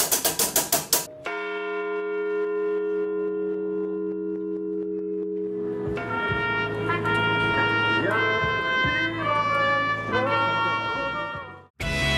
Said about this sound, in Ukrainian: Зараз піде бій малого дзвона.